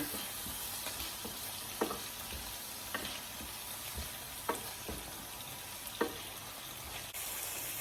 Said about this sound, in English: I'm also going to add some turmeric and stir.